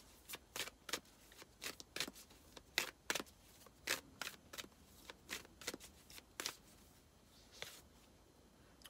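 Universe oracle cards being shuffled by hand, a quick series of crisp riffling flicks in an irregular rhythm, close and fairly soft, with no talking.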